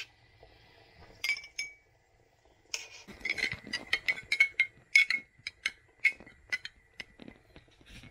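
A spoon clinks against a bowl as hot broth is stirred into sour cream for mushroom soup. The bright metallic taps come close and in quick, irregular bursts, with no talk.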